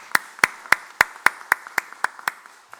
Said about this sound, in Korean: 다시 한번 큰 축복의 박수 보내드리겠습니다